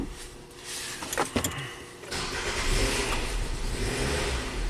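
A Nissan Sentra that barely runs is started cold: a brief cranking burst, then the engine catches and revs, holding a rough steady drone.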